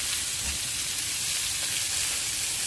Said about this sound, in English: So we take that butter without dropping it on the floor, and we plop that in there to melt